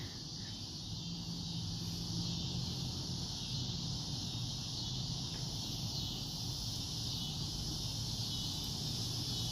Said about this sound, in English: 3 days to wait for these 3 freaking cicadas to die.